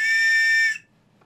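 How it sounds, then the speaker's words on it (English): A plastic safety whistle with no cork ball gives one loud, steady, shrill blast of about three quarters of a second, then stops abruptly into near silence. "This is a whistle that has no balls in it, and it whistles whether it's wet or otherwise."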